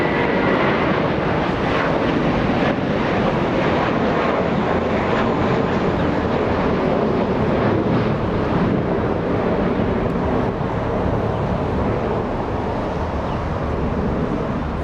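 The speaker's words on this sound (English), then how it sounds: "A Dreamliner about to touch down on 25 left." A Boeing 787 Dreamliner airliner on approach to land on runway 25 left at Los Angeles International Airport, heard as a steady, loud broadband jet roar that holds throughout with some wind noise and no talk.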